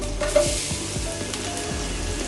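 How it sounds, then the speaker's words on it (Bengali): Pointed gourd and potato frying in a pan with chopped onion, a steady close sizzle broken by several short stirring scrapes. "পটল আর আলু ভেজে নিচ্ছি দিয়ে দিচ্ছি পেঁয়াজ কুচি"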